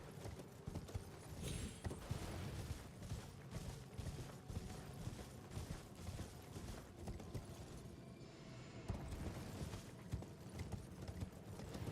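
Horse hooves galloping in the video game Elden Ring, a steady rapid clip-clop rhythm running throughout at moderate loudness, layered with game ambience and no talk.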